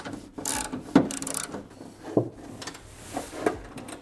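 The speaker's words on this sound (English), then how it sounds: "we can now go around and start to properly tighten them" Rear wing bolts for a TRE TR87 wing on a BMW G87 M2 being tightened inside the car's boot, giving a few short ratcheting clicks and metallic knocks spread across a quiet, close interior.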